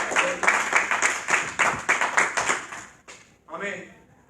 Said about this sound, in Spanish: Habrá un aplauso más fuerte para el Señor.